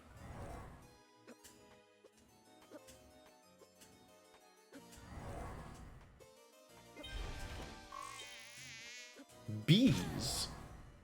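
Buzzing bees in the video game Timespinner, a thin insect drone over game music and sound effects, with a sharp crash near the end.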